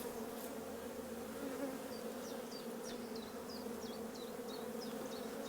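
Honeybees hum steadily inside an open hive during an inspection, a dense low buzzing that stays constant and fairly faint, with small high chirps drifting over it.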